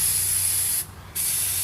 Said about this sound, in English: spray it till nothing but clear aerosol comes out, and then just wipe that nozzle off a little bit